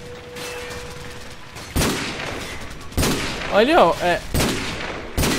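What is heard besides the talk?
gunfire in video game Call of Duty 4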